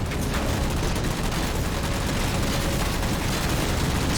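Sustained, loud gunfire from enemies shooting at the player during a Halo 4 campaign battle: a dense, continuous burst of shots and explosions with no pauses.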